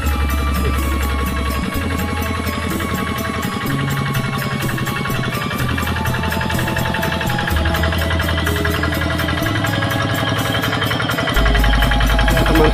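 A tractor engine chugs steadily with a rapid mechanical knocking and rattling vibration while tilling a rice paddy, continuous and close throughout.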